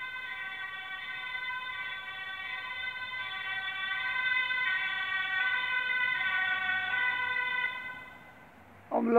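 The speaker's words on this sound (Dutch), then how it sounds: "Ambulance in de buurt." An ambulance siren wails steadily nearby, its tone shifting pitch over a constant low traffic rumble, then fading out at the end.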